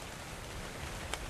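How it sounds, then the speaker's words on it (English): Rain falling in the survival game Dark and Light, a brief, steady broadband hiss of downpour with one small tap near the end, with no voices. "Before it stops raining"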